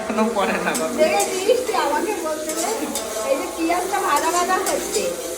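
Onion, tomato and sugar frying in hot oil with spices in a home kitchen pan, a steady close sizzle with occasional stirring scrapes, while someone talks over it.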